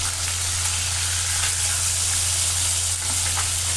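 Fish pieces coated with turmeric and salt fry in oil for a Bengali-style fish curry, giving a continuous close, even sizzle with a steady low hum beneath and no speech.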